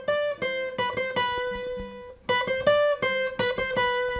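A plucked acoustic guitar plays a quick single-note melodic phrase from a song, then repeats it after a short pause; clean and close, no voice.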